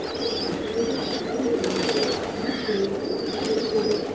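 Pigeons, including a Kabuli pigeon, coo softly in repeated low murmurs at a pigeon loft, with a few higher chirps from other birds over a steady outdoor background.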